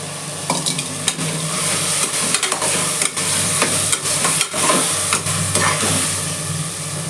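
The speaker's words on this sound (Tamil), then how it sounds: "இப்போ நான் ராஜ்மா சேர்க்குறேன்." Rajma (kidney beans) tumbled into a hot frying pan and stirred, a loud steady sizzle with repeated scraping and clattering strokes of the spoon against the pan, close and continuous.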